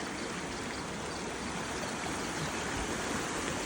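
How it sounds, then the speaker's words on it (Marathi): Floodwater gushing and churning beside a flooded school, a loud, continuous rushing roar that stays constant throughout, with no voices. "कसं मारते पाणी उसळल्या बघा."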